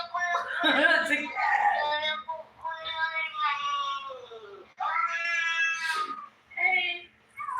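A cat meows and caterwauls repeatedly in long, wavering, close-up cries with brief pauses between them. The cries ring out clearly against a quiet background.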